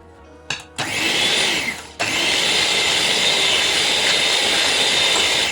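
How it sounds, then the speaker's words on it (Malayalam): An electric beater whisks eggs and milk for homemade ice cream. After a click it starts with a loud whirring drone, pauses briefly, then restarts and runs steadily to the end. "ഒന്ന് ബീറ്ററായിട്ട് നമുക്കൊന്ന് അടിച്ചെടുക്കാം."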